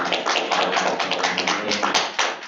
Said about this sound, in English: Please give a round of applause to our ambassador